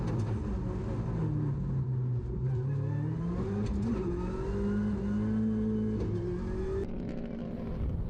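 A Ford Fiesta R5 rally car accelerates hard along a stage in Anglesey, its engine loud and close, rising in pitch through the gears with brief shift dips and no voices.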